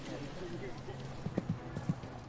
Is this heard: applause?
no